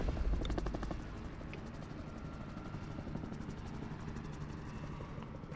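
Helicopter flying in the video game Call of Duty Warzone, a steady rotor chop with rapid rhythmic thumping that stays loud and continuous throughout, with no speech over it.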